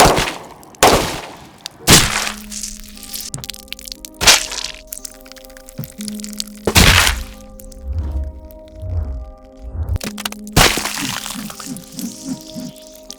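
AAC 124 grain full metal jacket rounds are fired into watermelons, about five sharp, loud gunshot cracks spaced a few seconds apart, each with a brief ringing tail, with a faint low hum between them.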